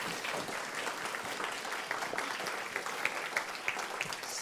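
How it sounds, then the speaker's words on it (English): Steady applause from an audience at a museum lunchtime art talk, dense and continuous clapping with a few sharper claps standing out, no voices over it. "let's give Michelle a large round of applause"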